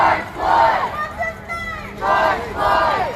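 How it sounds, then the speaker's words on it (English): Protest crowd chanting outdoors at a Tucson, Arizona street demonstration, loud rhythmic bursts of many voices rising and falling in repeated phrases, with a brief lull in the middle before the chant swells again. "So you can hear the chants."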